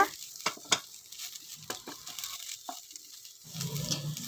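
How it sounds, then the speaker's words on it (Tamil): A spatula stirs drumstick leaves frying in a pan, making soft intermittent scrapes and taps against a quiet background, with a low sizzle swelling near the end. "நல்லா கிளறி விட்டுக்கோங்க"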